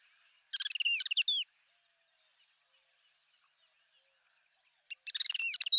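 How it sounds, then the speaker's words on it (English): Two bursts of rose-throated becard calls from southeastern Arizona, each a quick run of high, sweet chattering notes about a second long, separated by several seconds of silence. "Let's listen to a final vocalization of the rose-throated Bacard."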